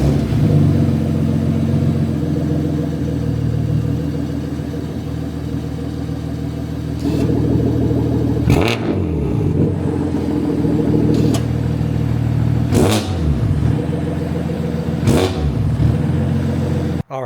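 A BMW F80 M3 with a cheap valvetronic-style clone exhaust idles with a loud, steady rumble, then four sharp throttle blips rev the engine and fall back, close up with no talking.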